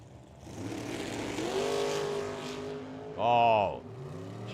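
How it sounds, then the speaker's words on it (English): A 1962 Plymouth Savoy drag car lights up its tires in a burnout at a drag strip, its engine droning and rising in pitch, then a sharp loud rev swell near the end, with an announcer talking over it. "Jeremy lit the tires up."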